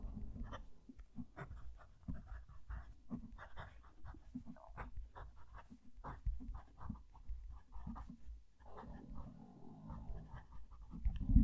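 A Chinese fountain pen with a stiff nib scratches across paper in close, steady strokes with short pauses, the dry scraping texture much like a pencil, heard alone without talk.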